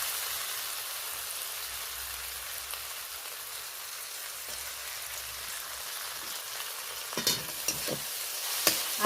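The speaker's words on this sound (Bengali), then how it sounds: "আদা বাটা দেওয়ার পরে কয়েক সেকেন্ড ধরে বেশ নাড়াচাড়া করে নেব।" Ginger paste frying in a pan with softened onion, tomato and green chilli for a spicy small-fish curry. A soft, steady sizzle runs throughout and ends with a few sharper scrapes of stirring.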